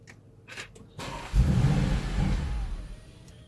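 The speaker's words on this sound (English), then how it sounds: "What will happen is the engine will start and immediately cut out." An Audi RS6 fitted with a ghost immobiliser cranks and fires without the code entered, the engine catching with a loud rumble for a second or so before dying away, heard up close.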